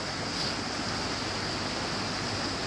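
A river flows beside a campsite in Bridger National Forest as a steady, even wash of rushing water that stays loud and unbroken throughout, with no voices.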